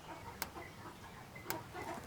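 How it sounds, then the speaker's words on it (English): Two sharp, isolated clicks about a second apart from a bird care system operating properly, over a quiet mechanical background hum. "that clicking noise tells you that the system is operating properly"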